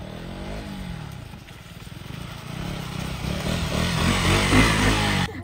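A motorcycle engine runs up close with a steady throbbing putter that grows louder and revs higher toward the end before cutting off abruptly.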